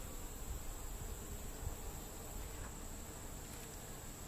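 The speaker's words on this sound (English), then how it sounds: "This bee's covered with pollen on his legs." Honeybees buzzing at a hive, a steady faint hum from many insects throughout with no talk.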